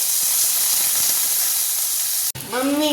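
Chopped onions, green chillies and curry leaves sizzling in hot oil with a loud, close, steamy hiss that cuts off abruptly near the end, followed by a brief voice.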